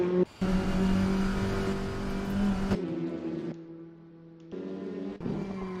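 Race car engine roaring on an onboard lap of Kyalami in a racing video game, a loud steady high-revving note with sharp gear-change breaks and brief drops in pitch as the car brakes and accelerates again.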